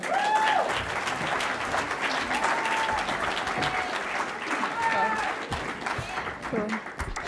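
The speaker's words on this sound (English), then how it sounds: "Let's give her a round of applause." Sustained applause from an audience at a State of the District address, dense clapping filling the whole stretch with a few cheers and whoops rising above it.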